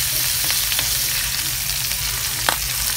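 Salmon skin frying in a pan sizzles steadily with a continuous crackling hiss, punctuated by a few sharper pops near the end, with no talking over it.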